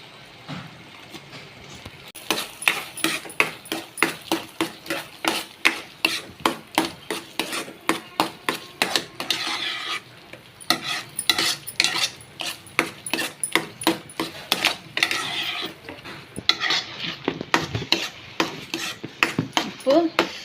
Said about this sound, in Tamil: நான் நெய் ஊற்ற போகிறேன்.